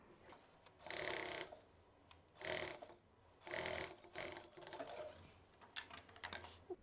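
A sewing machine runs in four bursts of steady whirring as it stitches lining into a mini backpack made of synthetic fabric, with short pauses between runs and a few lighter stitches near the end, close and fairly quiet.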